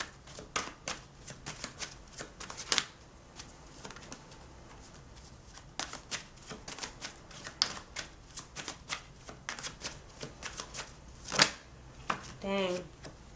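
Cards being shuffled for a pick-a-card tarot reading, a long run of quick, crisp riffling clicks and flicks at close range, fairly loud and steady with brief pauses.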